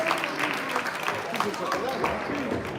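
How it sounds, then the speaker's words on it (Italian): An audience claps at a regional under-15 boxing tournament in Veneto. The applause is moderate and scattered, under a loud announcer's voice. "Lo facciamo un grande applauso ancora a Luca Rigoldi"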